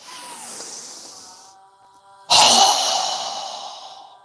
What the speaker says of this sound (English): So go ahead and inhale. Strong exhale.